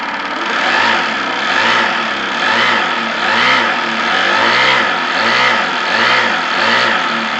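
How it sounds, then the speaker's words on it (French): A steam launch's engine idles at about 6 bar working pressure, giving a loud, steady chugging with even, regular pulses throughout and no voices. "Et vous allez entendre le bruit de la machine"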